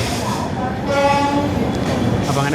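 12431 Trivandrum–Hazrat Nizamuddin Rajdhani Express pulling into Hazrat Nizamuddin station, a steady close rumble of rolling coaches with a long tonal hum or horn-like drone in the middle, while someone speaks briefly over it.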